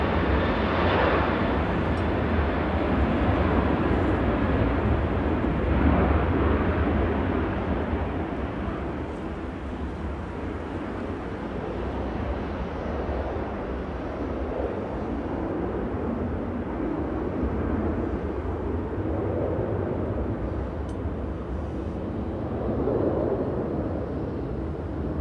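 A passenger jet departs Manchester Airport bound for Antalya, its engines a loud, broad roar that swells early and then holds as a sustained rumble with no talk.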